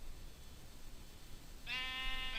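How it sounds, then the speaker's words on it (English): A single sheep bleats in Minecraft, a short harmonic bleat arriving near the end over faint ambient hiss, fairly close and clear. "we are in a tree with a ton of sheep"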